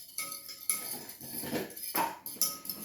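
Spoon clinking and scraping against a bowl while stirring bolinhos de chuva batter, a few quick close taps and swirls in short bursts.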